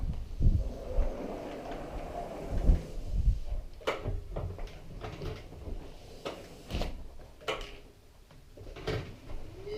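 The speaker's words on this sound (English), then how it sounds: "Close this door, a bit breezy." A door is pulled shut in a breezy room, with clicks, knocks and handling thumps spread over several seconds amid low background rumble.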